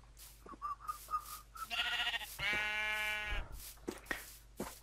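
A Minecraft sheep gives a couple of bleats, each a loud, wavering, nasal baa, after some short tones, heard close against faint game background.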